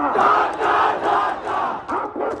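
A crowd chants a political slogan in loud, rhythmic unison at a Bangladeshi rally, with repeated phrases swelling and dipping across the short burst and no other voices standing out.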